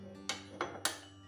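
A metal tempering pan set on a gas stove in a home kitchen, ready for tempering yogurt, gives three quick metallic clanks, close and quiet, with no talking.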